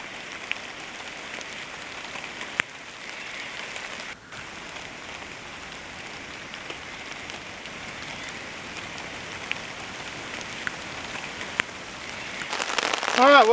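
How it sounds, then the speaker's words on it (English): Steady outdoor rain patters on surfaces in a constant soft hiss with scattered sharper drips, continuing for several seconds and swelling louder near the end, with no talk. "Still raining. It's been going for a couple of hours."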